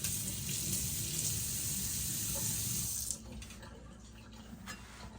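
Kitchen tap water gushes loudly into a sink while something is washed off, then the flow drops abruptly to a softer trickle and splashing.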